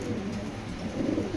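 Racer pigeons coo softly and repeatedly in a loft, low rounded calls overlapping at close range with no voices.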